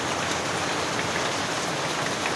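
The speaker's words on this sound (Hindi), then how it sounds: "बारिश टाइट हो गई है" Heavy rain pours steadily in a forest, a dense, continuous hiss of drops beating on leaves and ground, loud and close with no voices.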